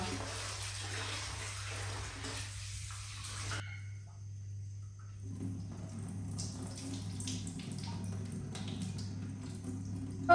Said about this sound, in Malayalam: അപ്പം നമുക്കിതൊന്ന് ഒരു വട്ടം കൂടെ കഴുകിയെടുക്കാം